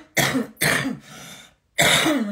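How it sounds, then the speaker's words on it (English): A lingering, persistent cough from a person ill for about six weeks: three loud, rough bursts close by, the first two back to back, then a short quiet gap before the third. "This cough has not subsided."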